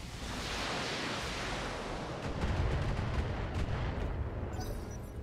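Weapons firing at a locked target in the mech video game Battletech, a heavy, continuous roar of volleys and blasts with a deeper rumbling surge midway, loud and close, no voices.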